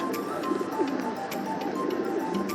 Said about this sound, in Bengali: এগুলো বিড়ার কবুতরগুলো খাঁচায় বন্দি তো বাকি কবুতরগুলো সব ছেড়ে দিছে